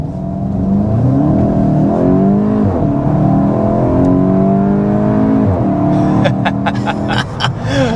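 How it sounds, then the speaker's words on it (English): A 2025 Volkswagen Golf GTI hatchback engine revs hard through several gear changes accelerating past 60 mph, pitch climbing repeatedly and dropping at each shift, loud and close from inside the vehicle. "we need to go ahead and start with a hard acceleration"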